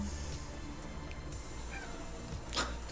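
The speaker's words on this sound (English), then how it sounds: "We have a cat roaming, sorry." A cat roaming indoors gives a short meow late in the clip, faint and brief over a low steady room hum.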